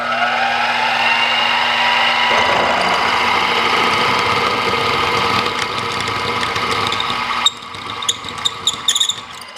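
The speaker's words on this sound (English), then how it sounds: "So here goes our larger and final drill through the hole." A steady mechanical whine of a power drill boring through metal runs throughout, dropping in pitch partway as it bites, then breaking into sharp clicks and scrapes near the end.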